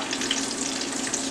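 Chicken wings sizzle and crackle steadily in hot frying oil, a loud, continuous hiss with no talking.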